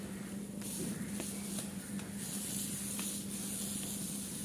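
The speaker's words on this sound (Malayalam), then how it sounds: "എന്നിട്ട് ഒരു വശം ഒന്ന് മൊരിയിച്ചെടുക്കാം." A folded homemade snack frying on one side in a pan gives a steady, close sizzle and hiss throughout, with a few faint clicks and no talk.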